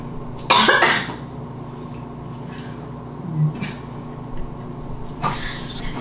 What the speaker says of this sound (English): Coughing and sick.